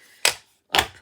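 Two sharp, crisp cutting clacks about half a second apart as a craft punch cuts watercolor paper, each a loud snap with a short decay, close by with silence between.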